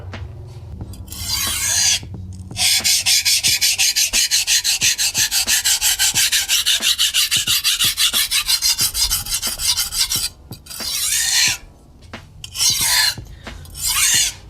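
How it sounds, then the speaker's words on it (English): Hard steel knife blade ground on a diamond sharpening plate for rough chip removal, a loud rapid rasping scrape in steady back-and-forth strokes, pausing briefly before several shorter bursts, close and without talk. "So I'm just doing a really rough sharpening just to get out the chips."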